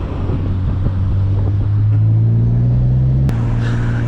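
A Nissan R33 GT-R engine drones loud and close while driving on Japanese streets, its pitch rising steadily before a sudden shift near the end, then settling at a lower tone.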